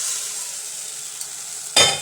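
Roasted spice powder for a Changanassery-style fish curry meets a pour of kudampuli soaking water, bursting into a loud, close sizzle after a steady low frying hiss.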